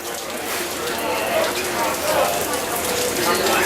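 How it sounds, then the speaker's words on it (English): Heavy rain pours down in the Amazon, a steady broadband hiss of drops drumming on surfaces that holds at a constant, dense level throughout with no talk. "when it rains in the Amazon, it really rains"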